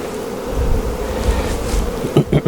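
Dense, loud hum of honey bees swarming over brood frames lifted from a hive being split, continuous and close, with a couple of sharp knocks near the end.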